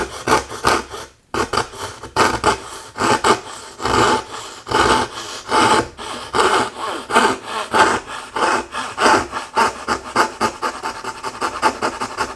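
A coping saw cuts through thin wood in a steady rhythm of rasping back-and-forth strokes, close and fairly loud, with one brief pause early on.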